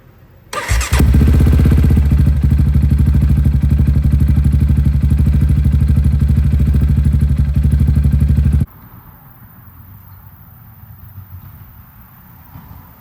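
A Yamaha Raptor 700 ATV engine cranks and fires, then runs loud and steady at a rough, throbbing idle for about eight seconds before cutting off abruptly, leaving quiet background.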